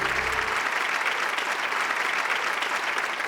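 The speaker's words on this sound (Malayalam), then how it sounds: "കൈയടിക്ക്" A studio audience at a Malayalam TV game show claps in a dense, loud, continuous burst of applause that holds steady throughout.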